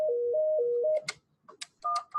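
Phone keypad tones dial star, one, seven to set up voicemail: a run of alternating steady tones followed by a few short, clear beeps with brief clicks between them, close and fairly quiet.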